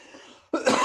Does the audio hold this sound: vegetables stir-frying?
no